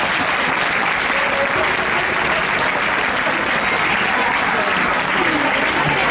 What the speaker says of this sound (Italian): fare un altro applauso al coro Notte in Toga